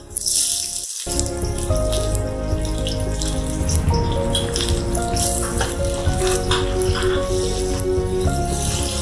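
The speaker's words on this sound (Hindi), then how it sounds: "अब हम अदरक और प्याज को लाइट ब्राउन करेंगे।" Ginger and onion fry in a pan of hot oil for chicken pulao. A loud, steady crackling sizzle starts after a brief pause and runs on continuously up close.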